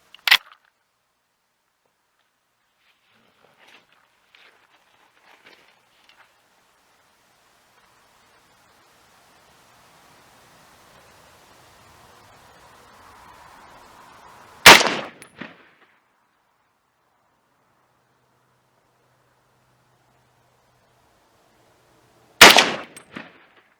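Three sharp, loud rifle shots from a Browning BAR Safari Mark II in 25-06 ring out at a shooting range, widely spaced with long quiet gaps between them.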